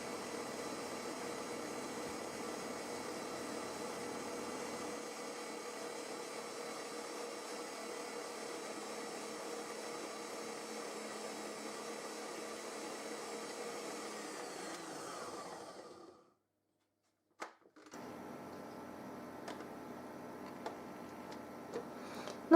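An electric mixer with a whisk beats meringue buttercream, a steady faint motor whine with ticking that runs evenly for about fifteen seconds, then cuts off abruptly and restarts briefly after a short silence.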